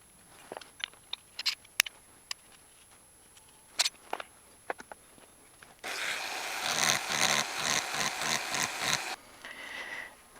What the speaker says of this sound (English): went pretty aggressive with that sanding tool there